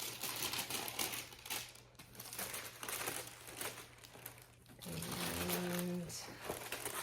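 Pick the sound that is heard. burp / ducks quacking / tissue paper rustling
tissue paper rustling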